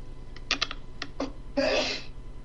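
A single close, breathy sneeze bursts out after a few quick clicks of computer keyboard typing, against a low room hum.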